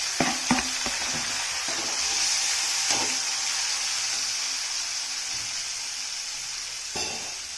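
Fish frying in a pan with a steady, bright sizzle throughout, broken by occasional clinks and stirring taps of a utensil, close and clear with no talking.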